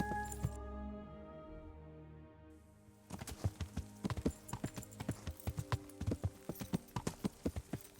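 Video game horse hooves clopping in a steady trotting rhythm on a hard surface, fairly close, following a brief lull at the start.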